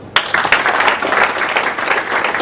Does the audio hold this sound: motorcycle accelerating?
no